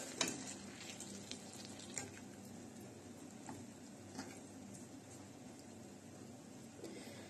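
Mushrooms frying in a pan as filling for a julienne pie give a soft, continuous sizzle, faint and even, with a few light stirring clicks scattered across it.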